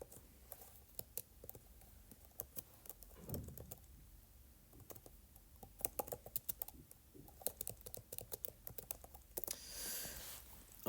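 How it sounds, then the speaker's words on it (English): Rapid, uneven clicks of typing on an iPad keyboard fill the clip, close and moderately quiet, coming in bursts with short pauses and a brief soft rustle near the end. "Not used to the keyboard."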